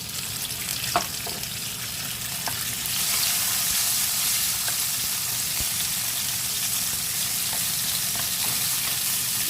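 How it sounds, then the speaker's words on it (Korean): Paprika stir-fried in a hot pan for japchae gives a steady sizzle that grows louder after a few seconds, with occasional light clicks of a spatula against the pan. "자 다음은 이제 파프리카 한번 볶아볼게요."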